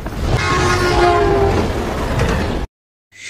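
A train rumbles past loud and close with a sustained horn blast and rolling clatter, then the sound cuts off abruptly into silence.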